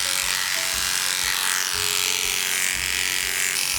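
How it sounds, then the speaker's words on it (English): Electric clippers skim lightly over the fur of a dog's back leg, a close, continuous high buzzing hum with slight shifts in pitch as the blades move, no voices. "I'm not pressing firm with the clipper, I'm just shaping and skimming with those clippers."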